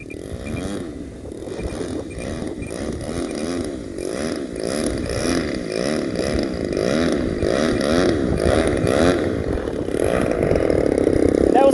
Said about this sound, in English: That was a maiden flight of the Seagull model RV-8.